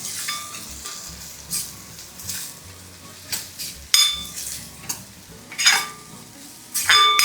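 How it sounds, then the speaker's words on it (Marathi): Kashmiri chili powder sautéing in a pan with ground masala, a quiet sizzle under repeated spatula stirs and scraping strokes against metal, with sharp clinks of utensil on the pan coming in bursts. "आणि चांगला रंग यावा म्हणून हे काश्मीरी मिरची पावडर. हे जरा परतून घ्यायचं."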